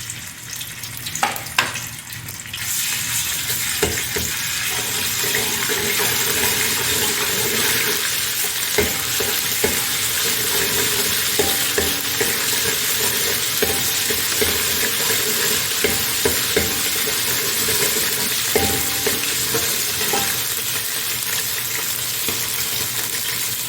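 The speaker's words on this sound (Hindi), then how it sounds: "ऑयल गर्म होते ही आपने इसमें थूम डालना है।" Garlic frying in hot oil: a loud, dense, continuous sizzle and crackle that bursts in after a brief quieter start and holds steady throughout, with faint stirring clicks underneath and no speech.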